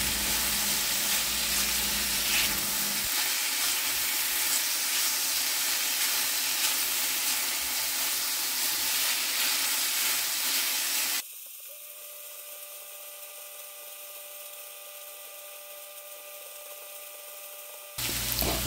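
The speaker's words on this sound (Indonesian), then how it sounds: "Lalu kita balik dan kita aduk sampai rata." Chicken frying in a pan while it is turned and stirred, a dense sizzling hiss with stirring noise that later drops to a thinner, quieter sizzle with a faint steady tone, no voices.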